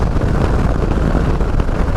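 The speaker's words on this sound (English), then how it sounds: "I can already feel the wind is really up around my eye level" Loud, buffeting wind roars continuously over the microphone while riding a 2018 Yamaha Star Eluder motorcycle with a short windshield, a dense low rumble with no voice.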